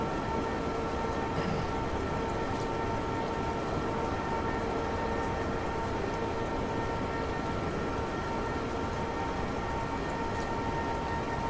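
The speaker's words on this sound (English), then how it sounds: "I hear that train coming, it's rolling around the bend" A train in Train Simulator Classic on the West Coast Main Line South rumbles steadily and continuously at moderate volume. A sustained tonal whine sits over the constant low rolling noise, with no clear build or pause.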